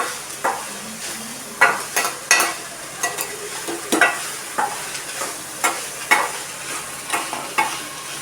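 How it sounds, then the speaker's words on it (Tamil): Onions sauté in a pan for South Indian adai, stirred with a utensil in a steady rhythm of scraping strokes and pan clinks over a soft, continuous sizzle. "வெங்காயத்தை வதக்கிட்டு அதில் கொஞ்சம் வதக்கினா போதும்"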